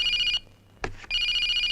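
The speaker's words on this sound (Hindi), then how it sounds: "उसी का फोन है।" A telephone rings in a tense Hindi action film scene, a loud close electronic trill that pauses briefly around a short thump, then resumes.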